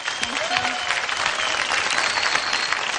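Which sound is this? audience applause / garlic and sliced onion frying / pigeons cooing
audience applause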